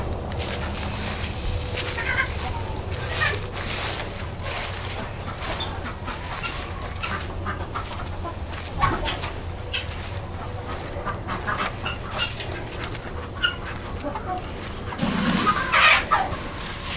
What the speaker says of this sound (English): Here we find Road tending to his chickens, ducks, guinea fowl